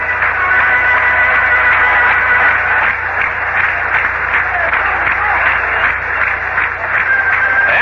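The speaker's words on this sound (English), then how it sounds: "these fans have started to applaud" Yankees fans at Shea Stadium applaud in a steady, dense wash of clapping and crowd noise, heard through a thin, band-limited vintage radio broadcast, loud and continuous with no break.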